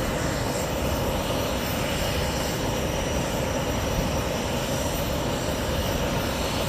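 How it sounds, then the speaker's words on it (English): Rear-mounted engines of an ERJ regional jet in a flight sim video game, a steady broadband roar with a faint high whine running unchanged throughout, loud and constant with no talk. "Sounds like an ERJ for sure"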